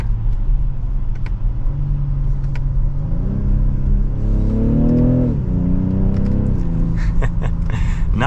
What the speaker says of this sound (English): you can hear the turbo just a little bit.